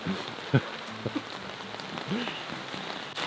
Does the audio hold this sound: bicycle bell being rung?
no